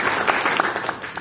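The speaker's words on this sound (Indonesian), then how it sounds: "Beri tepuk tangan yang meriah bagi Tuhan Yesus." A church congregation clapping during a worship service, a brief burst of many overlapping hand claps at moderate distance.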